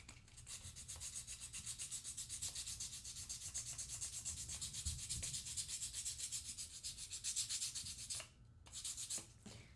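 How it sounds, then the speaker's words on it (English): 100 grit sandpaper scrapes over foam in quick, even back-and-forth strokes, close and soft, steady for most of the stretch before a brief pause and a final few rubs. "much nicer to do that with the sandpaper. And I'm using a very mild 100 grit."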